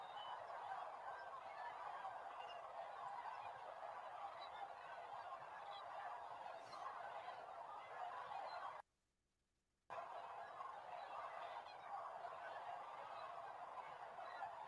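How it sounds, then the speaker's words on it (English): Distant flocks of cranes and geese call continuously at sunrise, a dense honking chorus over an outdoor hush, briefly cut to silence partway through. "this amazing mix of crane and geese"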